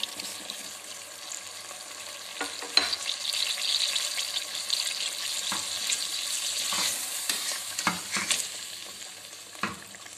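Chickpeas fry and sizzle in a pot for chana pulao, with steady hissing broken by scraping stirs and clinks of a spoon at irregular intervals, close and moderately loud, with no talking.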